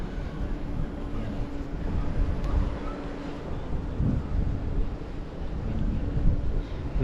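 Constant cold wind blowing across the microphone near windmills in Laguna, a broad rumbling rush that swells and fades in gusts, with no talking.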